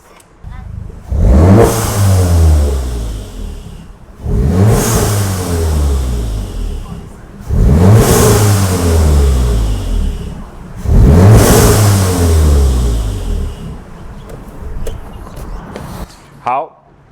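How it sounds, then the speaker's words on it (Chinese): A tuned Golf 7.5 R with Forge intake upgrades and a Forge blow-off valve revs hard four times in a row, each loud engine surge followed by a drop as the valve vents, heard close and alone. "让大家听听看Forge泄压阀声音是怎么样"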